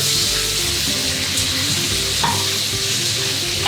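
Vegetables and peas cook in butter in a hot pan for pasta primavera, giving a steady, dense sizzle and crackle throughout, close and fairly loud, with light stirring underneath.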